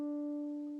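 A single violin note plucked on the open, full-length string rings as a steady sustained pitch with clear overtones, slowly fading over under a second, close and fairly quiet.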